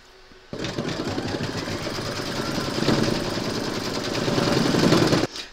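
An embroidery sewing machine stitching a turkey applique on a quilted placemat, a fast, steady mechanical whirring and needle clatter close by, starting abruptly and running for about five seconds before stopping.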